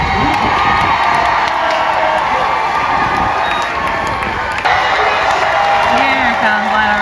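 A large crowd cheers and shouts loudly and without a break at an American Idol filming stage, with whoops and scattered voices rising over the din.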